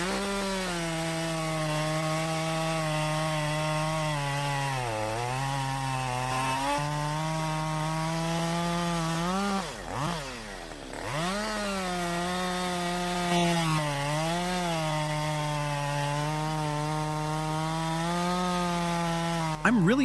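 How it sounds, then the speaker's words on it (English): A Jonsered 2252 chainsaw cuts through thick firewood logs, its engine droning loud and steady for about twenty seconds, pitch dipping and rising as the chain bites and eases, with no voices. "This chainsaw is impressive. The Jonsered 2252 handles logs with precision"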